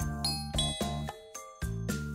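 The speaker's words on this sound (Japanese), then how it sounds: "インターホンが鳴った。" An intercom doorbell chimes a repeated ding-dong pattern, clear bright tones struck several times in quick succession, close and alone.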